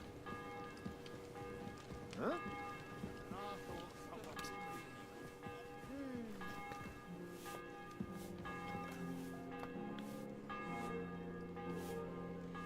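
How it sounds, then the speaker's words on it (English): A church bell rings amid ambient game sounds in Kingdom Come: Deliverance 2, a medieval-setting video game, with scattered tonal strikes and background activity; a voice briefly speaks. "The bell's ringing for Hans the 5th time."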